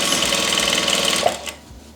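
A sewing machine runs a steady stitch through layered satin and cotton fabric, buzzing loudly and evenly up close before slowing and stopping near the end.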